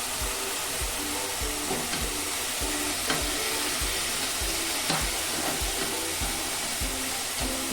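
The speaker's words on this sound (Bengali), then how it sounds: "ভালো করে আমি মশলাটা কষিয়ে নেব।" Spice masala of ground coriander and cumin frying in a pan for mutton curry, a continuous loud hissing sizzle with faint regular stirring scrapes throughout, no voices.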